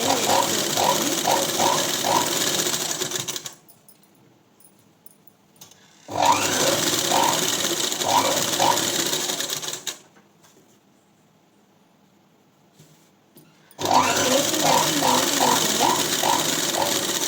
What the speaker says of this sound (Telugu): ఇప్పుడు ఇలా టాప్ స్టిచ్ వేసుకోండి